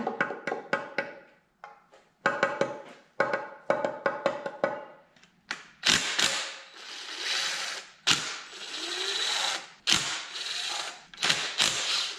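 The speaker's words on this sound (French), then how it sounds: "Maintenant, je vais enlever mes couverts de valve." A ratchet wrench loosens the valve cover bolts on a 1978 GMC K25 engine: repeated bursts of fast, crisp clicking, close and loud, broken by brief pauses and a few sharper metallic knocks.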